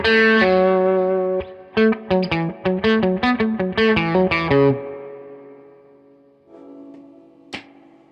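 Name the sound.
guitar through Mosky Audio LM741 overdrive distortion pedal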